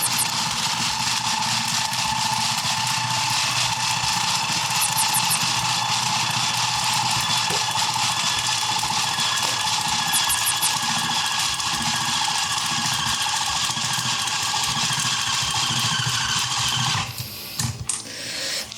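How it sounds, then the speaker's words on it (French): An EMG Autobot electric airsoft speedloader loads an M4 magazine with a steady mechanical whir and rapid ratcheting clicks that run continuously for about seventeen seconds, then stop abruptly. "je mets mon chargeur, peu importe la forme, et vous allez voir la vitesse"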